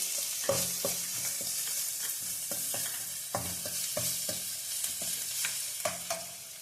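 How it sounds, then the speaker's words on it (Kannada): Ginger and green chilli frying in a pan for veg Manchurian, a steady close sizzle broken by repeated scraping and clacking stirring strokes at an uneven rhythm, with no talk. "ಶುಂಠಿನೂ ಕೂಡ ಸ್ವಲ್ಪ ಫ್ರೈ ಮಾಡ್ಕೊಳ್ಳೋಣ."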